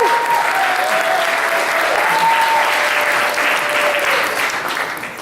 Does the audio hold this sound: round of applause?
yes